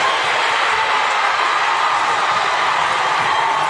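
Basketball crowd noise at a girls' state championship game, a steady, loud wash of cheering and roaring voices filling the arena for several seconds without a break.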